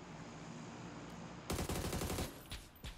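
Rapid automatic gunfire from a video game bursts in loudly after a quiet stretch, a dense rattling volley followed by a couple of separate sharp shots.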